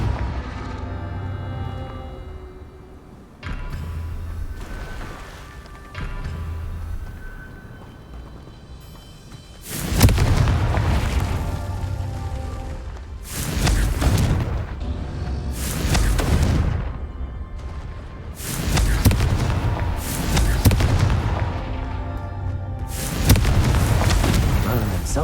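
Repeated loud blasts from the Confringo fire spell in Hogwarts Legacy, about five booming explosions in the second half, each with a rumbling decay, after quieter ambient music and effects.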